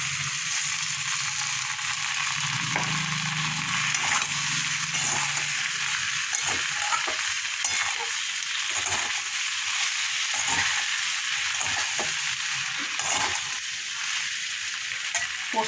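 Poppy seeds fry in oil with a continuous sizzling hiss, broken by occasional scraping taps of a spoon stirring the pan.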